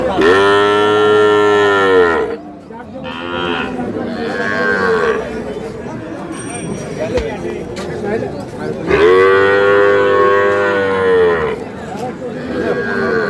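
Cattle, Sahiwal bulls and calves at a village livestock market during Eid, moo loudly in two long, low calls several seconds apart, with a busy murmur of crowd noise in between.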